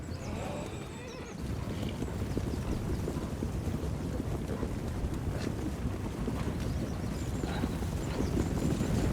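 Horse Master cavalry in the Warhammer 2 video game galloping across the battlefield, with a dense, continuous rumble of hooves, whinnies and wind-like noise at a steady level.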